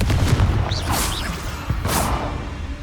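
In the Hogwarts Legacy video game, Confringo explosion spells burst in a quick series of booms and crackling blasts, with whooshing swishes between the hits, loud and close.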